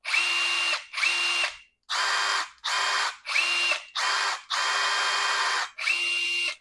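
A Metabo HPT sub compact drill runs in eight short bursts of high whine, one longer burst near the end, each separated by brief silence, close and clear with no talk.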